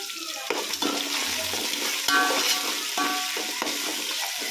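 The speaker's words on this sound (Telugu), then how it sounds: "ఇది కూడా కొంచెం వేగాలి." Ingredients for bagara rice sizzle steadily in a pan, loud and close, with scraping stirring strokes throughout.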